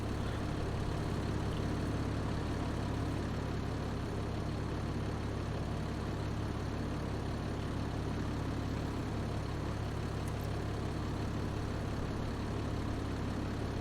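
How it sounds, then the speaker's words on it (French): Valtra tractor engine idling cold while warming up in Farming Simulator 25, a steady low diesel rumble holding constant and unchanging throughout, with no talk. "le tracteur est froid, on va le laisser réchauffer"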